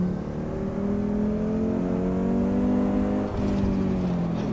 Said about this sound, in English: You can hear the interior and everything rattling in there. You can hear the turbo spooling up.